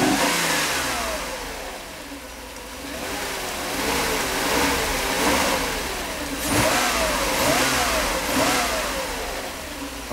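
A Mercedes 500SL V8 with an oil leak and out-of-tune engine revs repeatedly, close and loud, the throttle blipped several times so the pitch climbs and falls in waves over a steady running drone.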